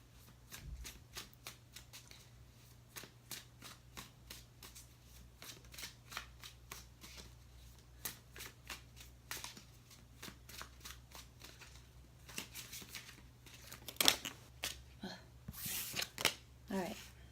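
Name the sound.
shuffling tarot cards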